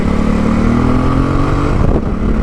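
A Yamaha XT660Z Tenere with altered gearing and cush drive shims pulls steadily in third gear through corners, its single-cylinder engine droning loud and close over constant wind rush.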